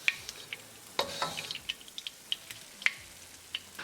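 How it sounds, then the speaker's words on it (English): Tofu sizzling as it is stir-fried in a karahi, a soft steady frying hiss broken by crisp pops and the clicks of stirring, close and fairly quiet. "All the tofu is nicely stir-fried and they change the nice color."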